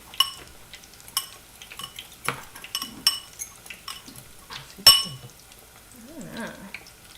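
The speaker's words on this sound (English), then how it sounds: "use this fork to mix up our sugar" Metal fork scraping and clinking against a bowl while stirring sugar and cinnamon for gluten- and dairy-free churro apple slices, a run of close, irregular taps and scrapes with sharper clinks, and a low voice briefly near the end.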